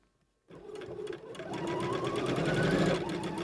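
A sewing machine stitching fabric while gathering and back-stitching, starting abruptly after a brief silence and building to a loud, steady, rapid mechanical whir close by.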